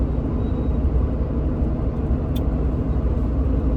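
A pickup truck cruises on a ring road, with a steady, loud low road and engine rumble heard from inside the cab and no talk.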